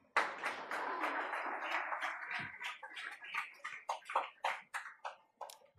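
Applause from a graduation ceremony audience, a dense patter of many hands that thins into scattered separate claps toward the end, heard alone without voices.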